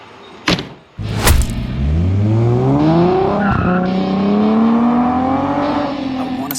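A 1970s Toyota Crown MS55 classic car is started with a couple of sharp clunks, then its engine revs up and pulls away, the tone climbing through gears in a loud, close, steady drone.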